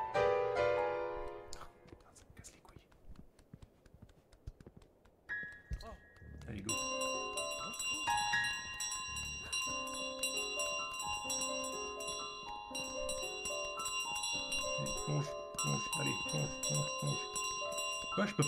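A goose in Untitled Goose Game carries a bell, its bright metallic ringing standing out in repeated clear tones over busy game music and background sound, with the bell's clang coming through strongly in places.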